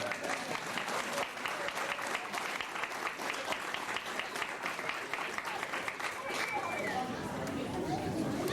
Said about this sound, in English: Can you give us ourselves a round of applause?